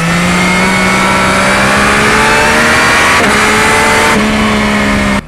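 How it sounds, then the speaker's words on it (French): A 2024 Yamaha MT-09 motorcycle accelerates at full throttle in fifth gear, its loud engine note climbing steadily in pitch, with brief quickshifter gear changes, then cutting off abruptly at the end. "là je suis en 5ème et là j'accélère à fond"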